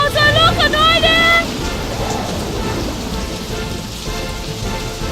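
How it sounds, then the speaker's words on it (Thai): Heavy rain pours steadily with rumbling thunder beneath it, a loud continuous wash of noise, briefly overlaid at the start by a raised voice before the downpour continues alone. "ฝนตกลงมาอย่างหนักเป็นเวลา40 วัน"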